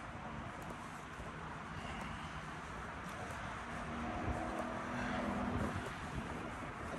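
A vehicle with a big, loud engine passes along a street, a broad low rumble swelling over several seconds against steady outdoor wind noise.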